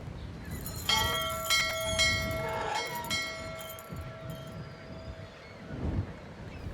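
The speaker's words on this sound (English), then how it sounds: "he has to hear the bell in order to come out" A bell rings out in the Syberia adventure game, a bright struck tone with long sustained overtones that fades slowly, with quieter game ambience and a few soft knocks around it.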